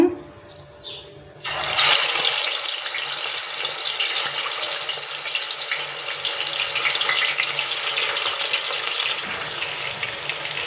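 Fish pieces of seer fish (vanjaram) go one by one into hot oil in a pan. After a short quiet start, a loud, steady hiss and crackle of frying sets in and carries on without a break.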